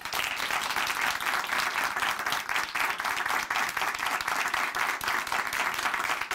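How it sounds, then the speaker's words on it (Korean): Steady, dense applause from a studio audience at a Korean Christian testimony broadcast, loud and continuous for the whole stretch with no voices over it. "다시 한번 박수 보내드릴게요."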